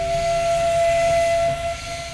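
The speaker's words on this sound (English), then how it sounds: "The 2:45 train steams into Kuranda Station." A steam train on the Cairns Railway pulls into Kuranda Station with a loud, continuous hiss and low rumble under a sustained whistle-like tone that eases off near the end.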